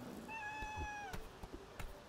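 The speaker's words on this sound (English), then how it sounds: "Oh, a kitty!" A cat gives one short, clear meow in the platformer Celeste: Strawberry Jam, followed by a few soft tapping game sounds, with no voices over it.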